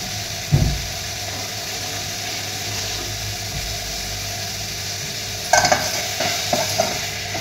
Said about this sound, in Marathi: आणि सगळं असं परतून घ्यायचं थोडंसं तेलावरच.